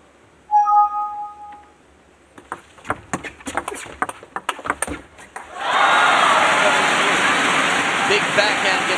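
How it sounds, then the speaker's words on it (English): A table tennis crowd at a world championship women's team semifinal, Japan against Hong Kong, breaks into a loud, sustained roar and cheer after a rally of sharp hits and scattered shouts. "Big backhand gets the crowd all riled up."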